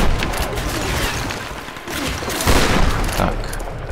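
Sustained, dense gunfire in the Tomb Raider video game, a continuous loud rattle of shots with a heavier surge partway through, and no voices over it.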